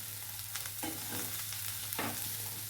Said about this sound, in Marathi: छान हलवून घ्यायचं एकत्र सगळं करायचं